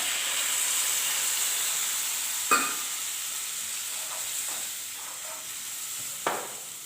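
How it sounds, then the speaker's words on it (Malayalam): Half a glass of water poured into a hot pan of sautéed masala for a snack, giving a steady sizzling hiss with two brief louder bursts of splashing and stirring, no talk. "അര ഗ്ലാസ് വെള്ളം ഒഴിച്ചു കൊടുക്കാം"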